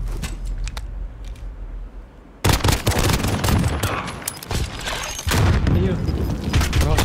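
Gunfire in the video game Call of Duty Modern Warfare multiplayer, loud bursts and booms starting partway in and continuing densely, with players talking over the shooting.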